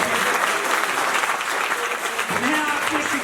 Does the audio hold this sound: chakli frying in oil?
no